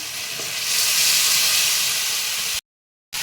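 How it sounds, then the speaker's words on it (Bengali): Spice paste sizzles loudly in hot oil as it is fried down for a vegetarian taro curry, a dense steady hiss that swells and then cuts off abruptly near the end. "মশলাটা আমি বেশ কিছুক্ষণ কষিয়ে নেব কষানো প্রায় হয়ে এসছে তেল ছাড়তে শুরু করে দিয়েছে"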